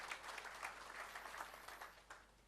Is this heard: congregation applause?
yes